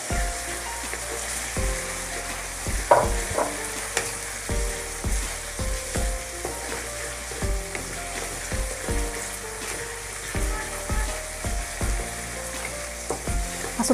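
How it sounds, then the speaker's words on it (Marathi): Tomatoes frying in oil in a pan for a Marathi dried-shrimp chutney, a steady close sizzle and crackle with occasional stirring scrapes, no talk. "तर थोडंसं याला तेलामध्ये ना असं भाजून घ्यायचं"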